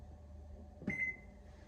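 A single short electronic beep rings out from an oven timer as a cooking time is set for roasting potatoes, faint and close against a low background hum.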